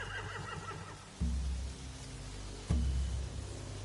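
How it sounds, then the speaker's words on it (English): Horses in The Walking Dead: The Final Season video game whinny with a few faint neighs, set against a low ambient game soundscape with two dull thuds. "They have horses."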